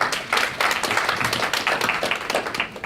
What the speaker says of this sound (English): Let's get a big round of applause for Cohen Resnick.